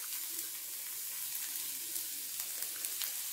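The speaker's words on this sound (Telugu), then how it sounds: "ఇప్పుడు ఇందులో ఆనియన్ ముక్కలండి. ఒక పెద్ద ఉల్లిపాయ అనుకోండి, ఒక పచ్చిమిర్చి తీసుకున్నా. వీటిని బాగా రోస్ట్ చేసుకోవాలి." Chopped onion and green chilli sizzle steadily in hot oil in a pan, a dense continuous hiss with faint crackles throughout.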